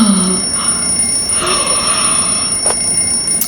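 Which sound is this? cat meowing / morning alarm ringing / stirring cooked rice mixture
morning alarm ringing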